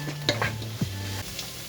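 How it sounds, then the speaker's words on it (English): Vegetables sizzle in a pot for pumpkin and goat cheese soup, a steady close frying hiss broken by a few short scraping stirs, with no voices. "while your vegetables are cooking, you still want it to sizzle"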